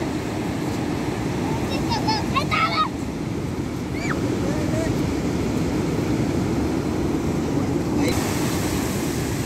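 Ocean surf on a beach at night, a loud, continuous roar of breaking waves with wind, while a few brief voices come through faintly.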